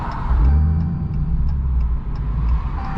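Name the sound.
Dodge Redeye car engine starting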